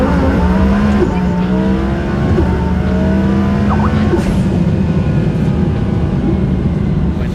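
A 1,400-horsepower twin-turbo Audi R8 street car roars under hard acceleration, loud and close. Its engine note climbs through rising gear pulls with clear shift breaks, and no one speaks over it.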